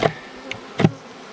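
A few faint honey bee buzzes from a swarm drift past, a short soft hum and then a louder close pass, over quiet outdoor background.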